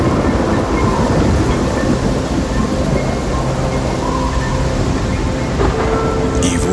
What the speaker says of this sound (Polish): Przez 40 dni i przez 40 nocy padał deszcz na ziemię.